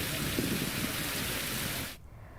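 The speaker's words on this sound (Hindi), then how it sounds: "तेज हवा के साथ यहां पर बारिश हो रही है" Heavy rain driven by strong wind in Bettiah makes a dense, steady roar that is loud and unbroken, then cuts off abruptly near the end. No one speaks.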